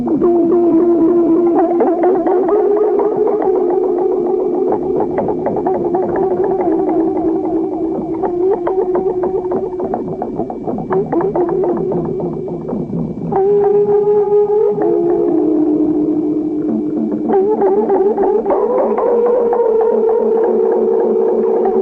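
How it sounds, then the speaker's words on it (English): A recorded piano sonata and concerto performed on electronic instruments, with warbling, gliding synthetic tones that hold steady pitches and shift through slow melodic phrases, loud and continuous for over twenty seconds, with no voices. "And now we begin to hear the second piano sonata and concerto."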